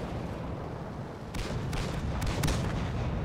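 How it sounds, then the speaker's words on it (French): Tank cannon fire and explosions in World of Tanks: several sharp booms, the loudest close together near the end, rise above a steady rumbling battle bed, with no voices. "Explosion!"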